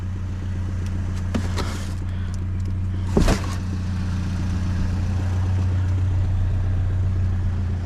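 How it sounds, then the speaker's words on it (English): A big semi truck idles with a steady, low drone and an engine knock, heard close by with a few brief clanks and one sharp bang near the middle. "Truck's knocking, isn't it? Hear it?"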